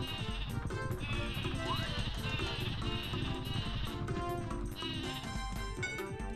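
Sleepy Sheep item from the Paper Mario video game, with sheep bleating mixed into loud, busy battle music that plays continuously throughout.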